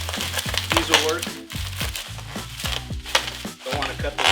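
Scissors cut through speaker-box packaging for used EKX 15P speakers in a series of sharp crinkling snips and rustles, close by and irregular, while someone talks over them.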